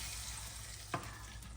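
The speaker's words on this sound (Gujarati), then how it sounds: "વઘાર થઈ ગયો કમ્પ્લીટ, મજબૂત વઘાર થઈ ગયો" Dal dhokli tempering sizzling in a pan just after the spices crackle, a steady frying hiss with a brief louder stir or splash near the middle, no voices.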